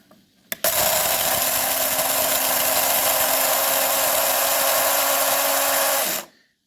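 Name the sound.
grinder grinding coffee beans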